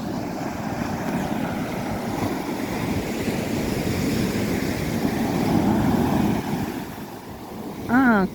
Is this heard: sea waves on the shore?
yes